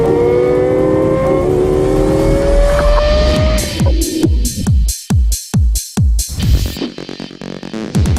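A Lexus LFA sports car's engine revs up in a rising, continuous pull, then barks through a rapid series of sharp blips and throttle snaps, loud and close, with no talk.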